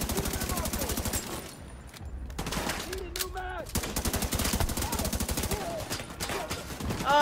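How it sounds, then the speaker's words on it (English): Enemy gunfire in the video game The Division 2: rapid bursts of automatic shots crackle continuously, some near and sharp, others overlapping in dense volleys, with brief gaps and a voice speaking underneath. "These guys are already shooting me!"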